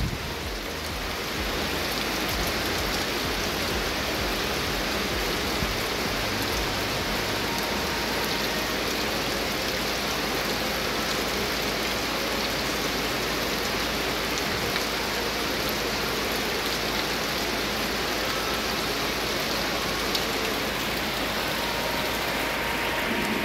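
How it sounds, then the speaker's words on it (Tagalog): Heavy rain pours down steadily in a dense, unbroken hiss that fills the whole stretch, loud and close with no voices over it. "Tingnan nyo naman ang lakas ng ulan guys"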